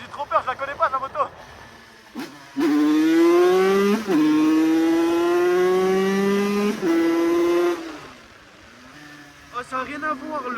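MRT motorcycle fitted with a new engine block revving up, a single loud, rising engine drone held for several seconds before dropping off, with short bursts of engine noise and a voice before and after.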